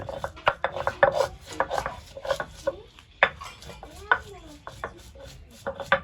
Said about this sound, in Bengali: এলাচের ফল এখন গুঁড়ো করব, গুঁড়ো করে এরকম বেটে ওর ভিতরে আমি দেব এখন।